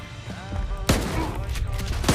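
Gunfire in the shooter game Stalker 2, a sharp burst of shots followed by rapid crackling fire, close and loud, with a voice in the background.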